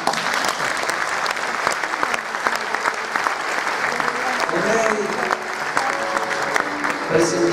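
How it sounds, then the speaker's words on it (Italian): An audience at an Italian evening stage show breaks into loud, sustained applause that keeps a steady level throughout, with a few voices and cheers mixed into the clapping. "Qua ci voglio un applauso."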